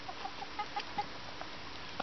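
Rooster chickens cluck softly in a quick series of short, evenly spaced notes, faint and a little distant, in below-freezing weather at a homestead.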